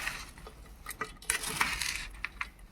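A spoon stirs and scrapes through methi laddu mixture with cardamom powder in a bowl, steady close clinks and scraping with irregular metallic taps.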